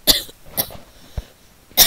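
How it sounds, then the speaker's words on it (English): A coughing fit of several sharp bursts: two near coughs at the start, a softer thump midway, then another loud cough at the end, with quiet gaps between. "Fucking coughing fits."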